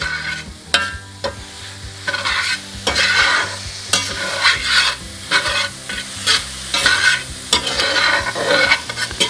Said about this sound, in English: So we're going to stir it until we have our chili seasoning basically coating all of our hamburger meat.